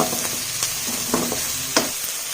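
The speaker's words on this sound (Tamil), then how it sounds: "வெங்காயம் வந்து நல்லா கோல்டிஷாக வர அளவுக்கு வணக்கிக்கோங்க" Onions sauté in a pan for sambar, a loud close sizzle broken by a few sharp stirring scrapes and clinks.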